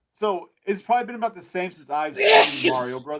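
A single sharp sneeze bursts out partway through, close and loud, set between stretches of someone talking.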